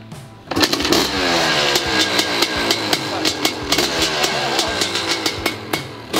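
A motorcycle engine, started for the first time after a carburetor adjustment with the idle being raised, catches and keeps running close by with a steady throbbing drone and sharp periodic knocks.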